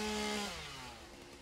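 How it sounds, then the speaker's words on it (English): Chainsaw cutting trees in the video game Satisfactory, a single short buzzing burst that starts strong and fades as the engine winds down, close and alone. "Only if there was another guy with a chainsaw that could help me"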